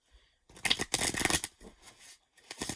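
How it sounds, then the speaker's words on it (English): Tarot cards being riffled and shuffled at close range, a few dense papery bursts of card flutter with brief pauses between shuffles. "Okay, I get 4 more shuffles. I'm gonna just get 4 more shuffles."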